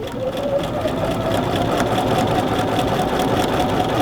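A sewing machine stitching a curved shirttail hem on a men's shirt runs steadily and close, a loud, even mechanical whir with a fast rhythmic needle chatter and no pauses.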